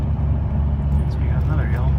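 Truck engine pulling under throttle on a grade with the transmission locked up, a steady loud low drone and rumble that fills the whole stretch without letup.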